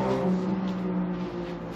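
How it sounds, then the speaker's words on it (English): Loud road traffic passing outside, a steady, dense rumble with a droning hum that holds throughout and eases slightly toward the end. "As always, our traffic here is deciding to be as loud as possible."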